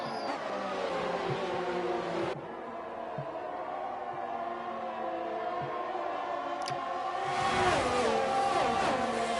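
Open-wheel race cars on a Hungary F1 circuit in a simulator race, engines droning and revving down the straight, a continuous mid-level whine that swells louder near the end, with no talk.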